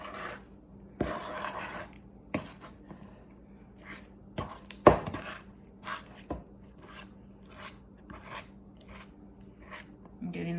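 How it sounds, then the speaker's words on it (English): A fork scrapes and clinks against a bowl while mixing lemon cookie dough, making soft intermittent rasping strokes with a few sharper taps, close and fairly quiet. "I've switched over to the fork for a little bit to help make sure I'm getting everything all mixed in."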